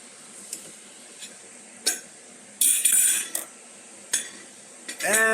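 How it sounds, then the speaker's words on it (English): A knife cutting a chunk off a burger in a pan, heard as a series of sharp metallic clinks and scrapes of cutlery against the pan, close and fairly loud, with short pauses between strokes. "So, I'm going to take this burger, I'm going to cut off a nice chunk of it."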